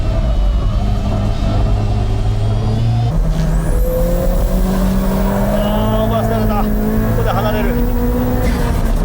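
Two 600-horsepower race cars, a Mazda FD and a Nissan GTR, accelerate hard on track, engines climbing steadily through the revs with a gear change partway, loud and continuous under a commentator's voice.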